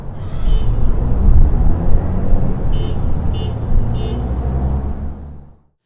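Car horn beeps heard from outside a vehicle, several short mid-pitched toots spaced apart over steady road and traffic rumble, fairly near.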